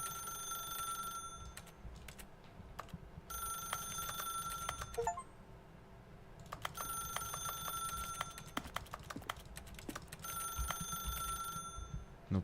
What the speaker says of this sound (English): No me deja contestar el teléfono.